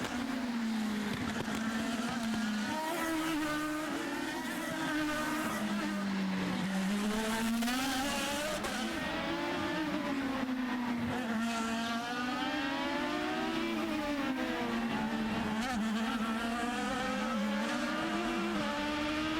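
IndyCar race cars passing at Long Beach during the 2011 street race, their high engine whines sweeping up and down in pitch as cars accelerate and go by, loud and continuous with no talk.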